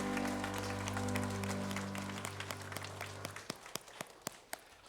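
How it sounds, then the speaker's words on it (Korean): A church congregation bursts into applause as sustained singing and tones end, leaving a run of sharp, fairly close claps that thin into separate hand claps. "하나님께 감사의 박수 올려드리겠습니다."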